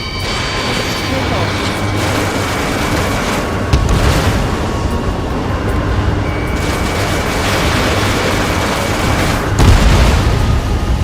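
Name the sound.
missile explosion in video game Ace Combat 7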